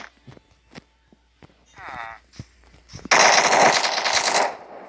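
A P90 submachine gun in a Minecraft Pocket Edition guns addon fires one loud rapid burst lasting over a second, after a few scattered quieter game sounds and footstep-like taps.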